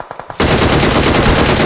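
Rapid automatic gunfire in the video game PUBG Mobile, a sustained loud burst of machine-gun shots following a few faint clicks, close and continuous.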